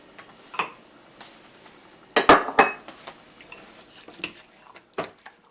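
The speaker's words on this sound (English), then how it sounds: "Now we got to mix these two together." A spoon clinks against a bowl while homemade sour cream of milk and lemon juice is mixed for a Jamaican-style coffee cake, with sparse light taps and a brief cluster of louder metallic clinks midway, otherwise quiet.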